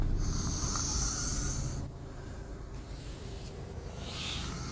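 A sleeping young child snores softly in a quiet room, with faint snorting breaths near the start and again toward the end.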